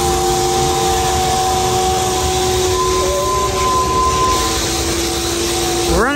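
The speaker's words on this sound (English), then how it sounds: "Now we're smoking those belts up there on the top of the pit auger." A farm pit auger runs with its belts smoking at the top, a loud steady mechanical drone with squealing tonal whines that rise sharply near the end.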